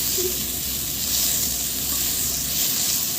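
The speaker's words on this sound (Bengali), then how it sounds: "পেঁয়াজটা ভালো করে ভেজে নেব লাল করে।" Onion paste fries in oil in a pan, making a loud, continuous, close-up sizzling hiss.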